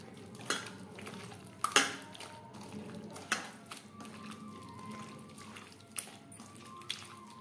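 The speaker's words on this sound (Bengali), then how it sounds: "মশলার সমস্ত উপকরণ ও টক দই দিয়ে মাটন বেশ ভালো করে মেখে নেব।" Mutton being mixed by hand with spices and sour yogurt in a metal bowl for an aloo mutton curry: wet squelching and scraping with sharp clinks of the bowl, steady and close, with no voices.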